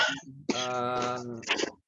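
A woman coughs and clears her throat during a late-night online meeting, a short rough burst followed by a strained, voiced hack and a final cough, close to the microphone.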